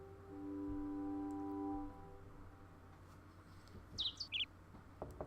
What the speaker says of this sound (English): Ah, loud birds